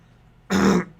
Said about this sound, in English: Wow, got kind of a cough.